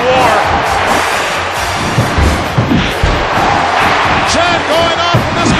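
A capacity arena crowd chants and roars in WWE 2K14 during a Wyatt Family versus Shield grudge match, a steady loud wash with occasional thuds from the ring, heard under continuous commentator talk.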